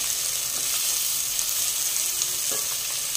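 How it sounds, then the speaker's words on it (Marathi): Three medium chopped onions sauté in a hot pan over high flame for a spiced methi matar malai base, giving a steady, close, loud sizzle and crackle with faint stirring scrapes throughout. "ते घालायचे आणि कांदा छान आता परतून घ्यायचा"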